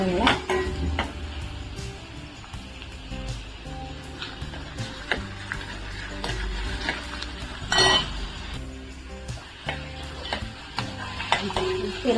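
Soybean bhurji with finely chopped onion is stirred in a pan: repeated metallic clinks and scrapes of a spoon against the pan ring out close by, over a faint sizzle, with uneven stirring rhythm and no clear talk.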